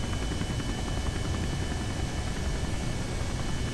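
Helicopter rotor blades spin steadily in Kerbal Space Program, a continuous, even, loud broadband whirring drone with a low rumble that holds unchanged throughout.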